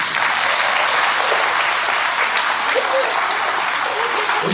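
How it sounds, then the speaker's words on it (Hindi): Sustained applause from a crowd at a church inauguration and blessing ceremony, dense steady clapping at an even level from start to finish. "थोड़ा सा उसके लिए हम ताली बजा देते हैं।"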